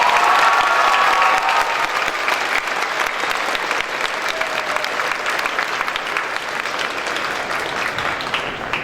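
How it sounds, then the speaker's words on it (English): A large assembly audience applauds a graduating class with steady, dense clapping that stays loud throughout, joined by faint scattered cheers. "one more round of applause for the graduating class of 2022"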